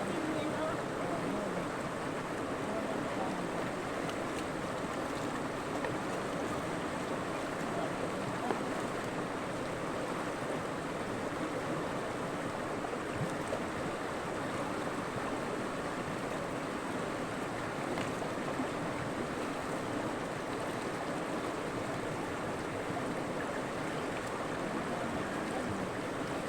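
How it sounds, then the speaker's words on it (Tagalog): Strong river current rushing steadily at a river bathing spot, a constant broad wash of water noise with no breaks, with speech in the clip. "Malakas ang agos."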